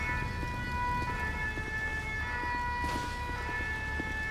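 A fire truck siren in the GTA 5 video game wails steadily, a sustained tonal siren held at a moderate, distant level with a constant background hum and no talk.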